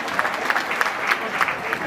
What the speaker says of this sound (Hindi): जोरदार तालियों के साथ हमारे विधायक जी का सम्मान करें।